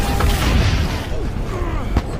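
A sudden explosion rips through a war film's scene at an abandoned Soviet bunker, a dense broadband blast with a sharp burst early on and another near the end, heard up close over rumbling low noise.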